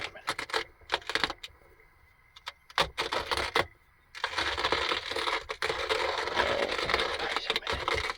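A hand-cranked coffee grinder is turned haltingly at first with scattered clicks and rattles, then settles into a steady close-up crunching and grinding of coffee beans that runs to the end.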